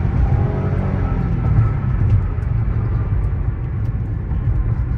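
Lexus RX330 engine pulling under steady acceleration on the road, a loud, continuous low drone and rumble heard from inside the cabin, with no talk over it.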